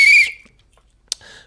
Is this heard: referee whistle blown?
yes